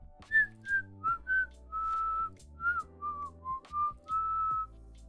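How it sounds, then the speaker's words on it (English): Inhaled whistling made by sucking air in, a run of short wavering pitched notes and a few longer held tones, close and clear with brief pauses between phrases, no talking. "That's like my sucking in whistle,"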